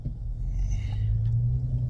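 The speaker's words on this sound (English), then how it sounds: "Garbage truck." Garbage truck rumbling past outside, a low steady engine drone heard from inside a home, moderately loud and without talking.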